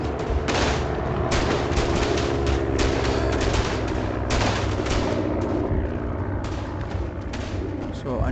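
Gunfire in the World War I shooter Verdun, played as a French Chasseurs Alpins squad in the Aisne campaign; loud, dense battle noise with repeated sharp shot bursts and booms filling the scene, and a voice talking over it.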